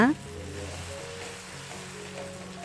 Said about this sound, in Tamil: சூடான தவாவில் எப்போதும் தோசை ஊற்றுற மாதிரி ஊற்றிக்கோங்க.